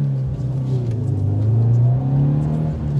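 A car's engine revs under throttle close by during drift practice, a loud steady drone whose pitch slowly rises and wavers, continuous throughout with no voices.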